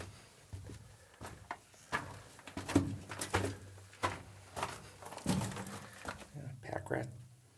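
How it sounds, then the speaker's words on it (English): Birds living inside a drift mine at a talc prospect, with soft low cooing mixed with scattered hollow knocks and rustles echoing in the enclosed space. "You got birds living in here."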